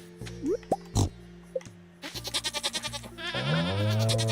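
A goat in the Stardew Valley farming game bleats amid short game blips and chimes, followed by a quick run of pulsing tones and a sustained jingle, all clear and close.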